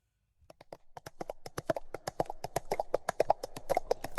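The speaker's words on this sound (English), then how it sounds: "Did you guess that it was the sound of a horse?" Horse hooves clip-clop in a steady trotting rhythm, starting faintly and growing closer and louder, crisp hollow knocks with no talking.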